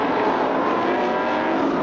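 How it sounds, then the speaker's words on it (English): Sprint cars on the first lap of the feature at Placerville Speedway in 1984, a dense, loud, unbroken roar of engines with no pauses. "Here is the first lap of the feature in the sprint car feature that night."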